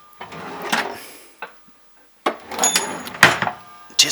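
Kitchen drawers reused in a home workshop to hold chisels slide open and shut with several scraping, clattering bursts, each followed by a knock and separated by short quiet gaps.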